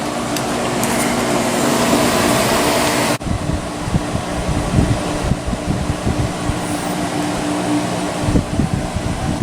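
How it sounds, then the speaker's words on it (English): A Danby/Idylis portable air conditioner runs on low indoor fan, giving a steady, fairly loud whooshing drone with a hum underneath and a few light knocks. "Low indoor fan."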